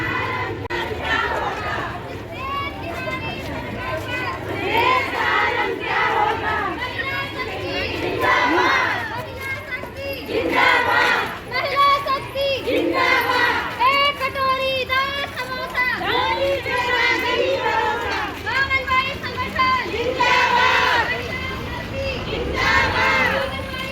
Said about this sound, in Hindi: तो काफ़ी भीड़ है आज, दूर दूर ब्लॉक से भी महिलाएं आ रखी हैं।